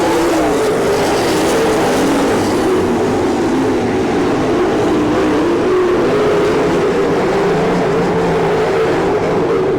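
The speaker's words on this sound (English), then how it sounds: "White flag waving this time on the 22 of Rodney Duncan" Sprint race cars roar around a dirt oval at an All Star Circuit of Champions Ohio Speedweek race in Lima, Ohio, a loud, continuous engine drone that swells and fades slightly as the pack passes.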